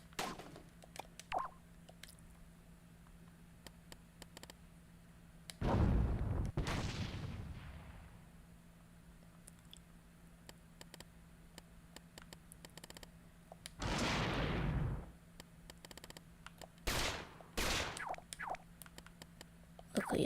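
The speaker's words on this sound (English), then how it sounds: "It'll just be like a basic gun shoot." Basic gunshot sound effects in the video game LittleBigPlanet 3, a few sharp bursts, some drawn out into roughly second-long blasts, separated by quiet stretches with faint clicking between them.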